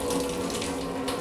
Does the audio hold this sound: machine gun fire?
no